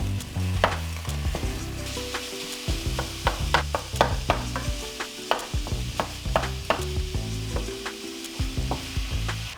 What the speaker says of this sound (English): So we are going to get started by browning our hamburger.